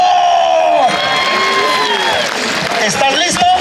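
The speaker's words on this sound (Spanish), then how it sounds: "¡Aplauso!" At a jaripeo rodeo event in Tamazulapam del Espíritu Santo, a loud crowd erupts in cheers, whoops and clapping, with shouting voices rising over the applause.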